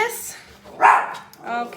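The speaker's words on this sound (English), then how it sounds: "You have to stop barking, you're crazy." A dog gives a few short, loud barks close by, with someone talking around them.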